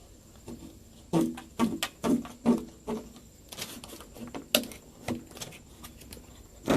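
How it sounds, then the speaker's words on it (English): Tin snips cutting sheet metal duct on an angle produce a run of sharp, crisp metallic snips in an irregular rhythm, close and clear, with no voices. "I'll make a cut just like this with my tin snips"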